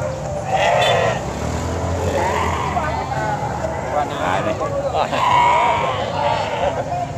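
Priangan sheep bleat amid the bustle of the busy Ciampea livestock market, repeated calls rising over crowd noise while people talk nearby.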